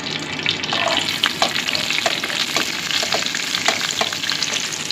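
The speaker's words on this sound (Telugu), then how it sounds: "ఇప్పుడు అది వేడవుతున్నప్పుడు onion, green chilli and tomato 3 వేయాలి." Onion, green chilli and tomato sizzle steadily in hot oil for a curry, a dense continuous crackle with occasional stirring clicks, close and fairly loud throughout.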